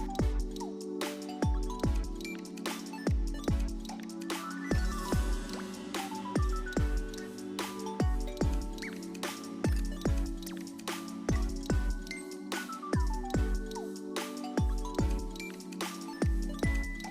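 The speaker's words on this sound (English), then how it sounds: "I take it over to the sink where I'm gonna make sure that I rinse it thoroughly" Sea moss being rinsed under running water at a kitchen sink, with steady wet squishing and dripping plus sharp intermittent clinks and taps repeating throughout, close and fairly loud.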